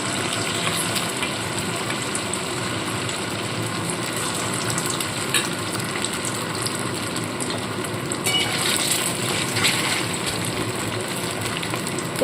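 Potato pieces deep-frying in a karahi of hot oil for chilli potato: a constant, dense sizzle and bubbling hiss throughout, close and steady, with occasional faint scraping and clinks and no talking.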